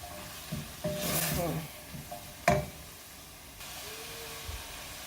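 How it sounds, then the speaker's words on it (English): Onions soften in a pan for a keto spaghetti sauce, with a faint, low sizzle under a few stirring scrapes and clinks, including one sharp knock midway. "Then cook this also for about a minute so that the onions will get like soft."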